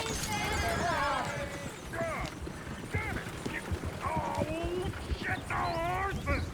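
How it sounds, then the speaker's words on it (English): Horses in the video game Red Dead Redemption 2 whinny and neigh repeatedly amid hoof clip-clop and general commotion, with people talking over them throughout. "Shit, the horses! Damn horses!"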